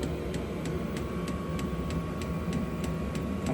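Garage heater running and burning outside: a steady, even roar with a faint, regular ticking repeating throughout.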